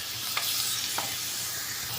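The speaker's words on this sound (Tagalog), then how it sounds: "Haluin na natin ang manok." Chicken for adobo being stirred in a hot pan, a steady bright sizzle of frying with a couple of soft scrapes from the spoon, close and continuous, no talking.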